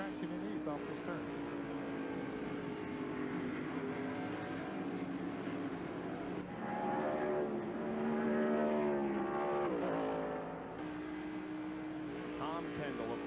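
A race car engine at the 1993 Save Mart Supermarkets 300k roars and shifts pitch as it downshifts into second gear, heard fairly distant under a commentator talking over the broadcast.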